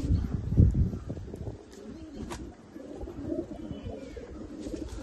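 A female fancy pigeon from a breeder's collection coos softly and steadily, with low murmuring calls and a few brief rustles close by, no talking.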